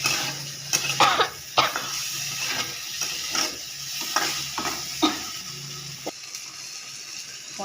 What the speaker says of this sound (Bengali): পনিরগুলো সামান্য একটু হালকা ফ্রাই করে নিচ্ছি